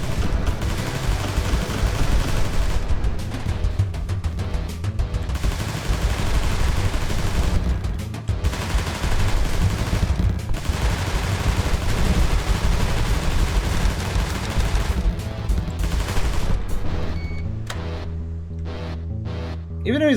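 Enemy gunfire in the MF-01 Aerostrike bullet hell shooter, dense rapid volleys of shots rattling almost nonstop over game music and heard beneath ongoing talk.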